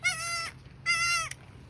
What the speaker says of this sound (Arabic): يا معزة.